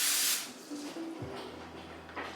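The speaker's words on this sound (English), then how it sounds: "I'm gonna spray it with some non-stick spray really quick" A can of non-stick cooking spray hisses briefly onto a small tin foil baking pan, a short bright burst at the start followed by quieter handling sounds and light clinks.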